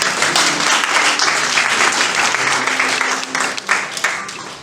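Applause from an audience at a national convention launch dinner in Atakpamé, a steady wash of clapping with faint cheering throughout, swelling then thinning slightly near the end.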